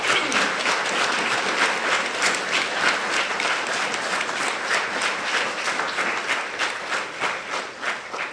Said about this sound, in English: So let's give Vicki and her crew a round of applause.